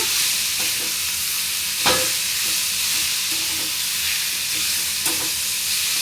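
Flat beans (ghevda) sautéing in a pan: a continuous close sizzle with repeated spoon scrapes and stirring knocks against the pan, no voices.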